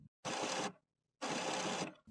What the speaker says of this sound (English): Listen for the paper pick rollers.